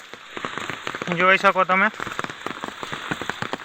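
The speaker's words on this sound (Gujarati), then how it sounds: "વરસાદ ખૂબ ચાલુ છે હમણાં" Heavy rain pours steadily over village fields and a pond during a dark downpour, a constant close hiss and patter with someone talking over it.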